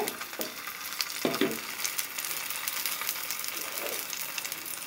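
Vegetables for vegetable paratha frying in a pan, a steady close sizzle running throughout with a few soft stirring scrapes and clinks, no talking.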